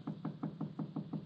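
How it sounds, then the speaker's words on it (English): A door is knocked on in a radio drama, a quick run of about seven soft, evenly spaced raps heard faintly with nothing else over it. "There's someone at the door."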